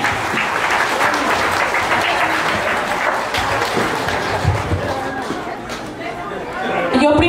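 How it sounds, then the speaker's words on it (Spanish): Quinceañera guests break into sustained applause mixed with chatter and cheers, a full room clapping at a steady level throughout. "Esos aplausos, que se escuchen."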